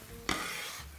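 Garlic turning golden in a frying pan, a bright crackling sizzle that jumps in with a stir and keeps going for under a second.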